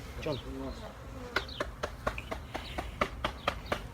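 A swarm of 10,000 to 12,000 honey bees is being settled into a new hive, giving a faint, continuous buzzing under a series of sharp clicks and taps from handling and brief nearby voices.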